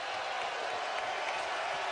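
Arena crowd at a college basketball game between Arkansas and Iona, a steady broad roar of cheering and noise filling the space, loud and continuous with no pauses.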